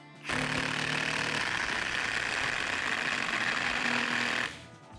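A Procraft Industrial cordless impact driver drives an 8 mm lag screw 105 mm long into the workpiece, making one loud, close burst of rapid hammering that rattles on for about four seconds, then stops abruptly.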